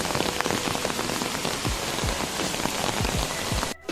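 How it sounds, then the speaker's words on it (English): Heavy rain pours down steadily during a hike in a national park, a dense, continuous hiss of drops striking close by with no talking, cutting off abruptly near the end. "it started raining very heavily"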